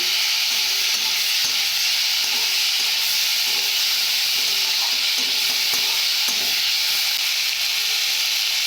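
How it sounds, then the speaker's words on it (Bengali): Pieces of mango frying in a pan and being stirred, a loud continuous sizzle with scattered scraping and clinking from the stirring. "এরপর আম দেবো ভালো করে ভেজে নেব এইভাবে"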